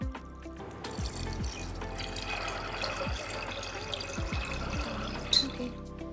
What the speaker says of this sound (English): I added about 2 glasses of water